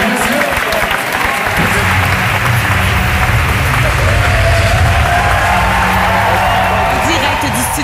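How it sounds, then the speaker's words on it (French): Sustained applause from a large studio audience at an awards show, dense and steady throughout, with some cheering and a few voices mixed in. "Applaudissez-moi s'il vous plaît un peu."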